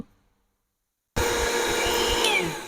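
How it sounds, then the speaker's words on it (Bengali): After a moment of silence, an electric mixer grinder abruptly starts up and whirs steadily and loudly as it grinds soaked rice into powder, with a motor whine running to the end. "এবার এটা আমি মিক্সচারে গুঁড়ো করে নেবো"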